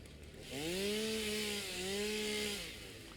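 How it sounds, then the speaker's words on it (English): A chainsaw in the Satisfactory video game revs up, drones steadily for about two seconds with a slight dip in pitch, then fades, heard close and alone without speech. "let's break out that chainsaw"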